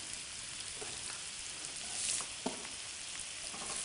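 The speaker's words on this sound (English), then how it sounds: "just cook, stirring for a while so that the flavours go deep into the onions" Onions and shards of peeled ginger frying in a pan while being stirred, a soft steady sizzle with a few brief scraping stirs, close and quiet.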